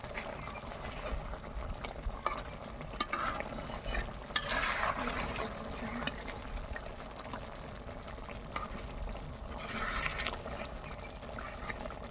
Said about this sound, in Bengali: হালকা একটু নাড়াচাড়া দেব